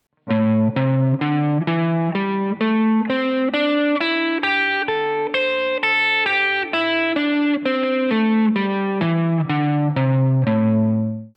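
A distorted electric guitar plays a quick run of single-note pentatonic licks, notes rising then falling in a steady, continuous phrase.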